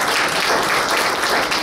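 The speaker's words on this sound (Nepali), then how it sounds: "ताली बजाएर स्वागत" Church members applaud to welcome back a returning member, a loud, dense and even burst of many people clapping together in a hall.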